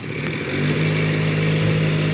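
Two-wheeler engine revving steadily as throttle is given during driving practice, a close, continuous mid-pitched drone that builds slightly in the first half-second and then holds level, with no talk.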